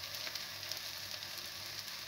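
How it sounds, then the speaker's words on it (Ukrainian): Liver cake batter frying in a hot pan gives a steady, close sizzle with crackling spits, continuous and even throughout with no talking. "зажариться, засмажиться і будемо перегортати."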